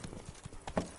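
Roach, Geralt's horse in The Witcher 3: Blood and Wine, gallops with a quick, steady run of hoof clip-clops, close and fairly quiet, with one louder hoof strike near the end and no talk.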